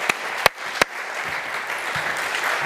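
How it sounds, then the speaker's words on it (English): A congregation applauding at a Sunday church service, a few sharp individual claps at the start before the crowd's clapping settles into a steady, fairly close roar. "A round of applause again for Emmy and Kate."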